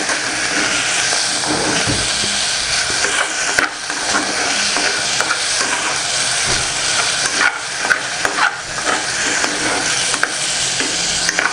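Hot groundnut oil sizzles and crackles in a pot while shawarma is prepared: a loud, continuous close-up frying hiss with scattered pops and occasional stirring scrapes, and no voices.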